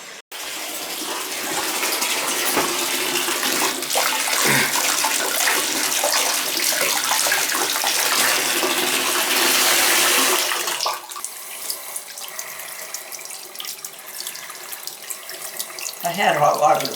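Hot water gushes from a household tap in a steady, loud broadband rush for about eleven seconds, then drops to a quieter flow with small knocks and clatter, rising again at the end.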